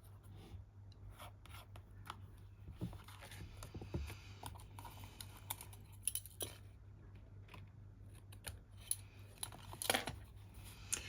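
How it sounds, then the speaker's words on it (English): Scissors snip card scraps in quiet, short clicks and rustles, irregular and close, with light handling of paper between cuts. "I'm going to snip this off"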